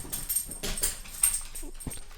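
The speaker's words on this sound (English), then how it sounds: "that's my dog on the couch." A dog lying on a couch gives a few short, soft whimpers and small nasal whines, close by and in irregular bursts, with no speech.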